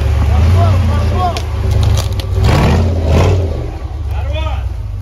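Off-road vehicles such as Lada Nivas on 33-inch tyres and a UAZ with a Toyota 2UZ V8 revving hard while crawling over difficult terrain, a loud, close, surging roar that rises and falls in several pushes, with people talking over it.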